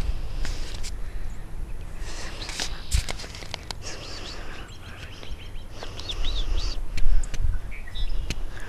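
Birds chirp and call outdoors over a constant noisy background, with footsteps and faint rustling close by and someone speaking quietly.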